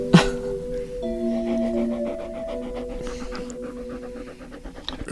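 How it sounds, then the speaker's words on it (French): A female dog obsessed with play pants quickly and steadily nearby, with rapid rhythmic breaths running throughout under a faint tonal background hum. "Elle est obsédée par le jeu, cette chienne."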